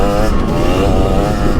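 A 2023 KTM 300XC two-stroke dirt bike engine runs loud and close, a dense buzzing drone with a slight wavering pitch throughout, and no talk over it.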